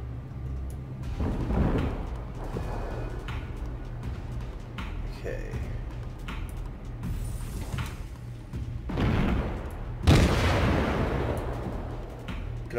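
Warship guns firing in World of Warships, a few deep booming blasts spaced apart with rumbling tails, the loudest near the end, under ongoing talk.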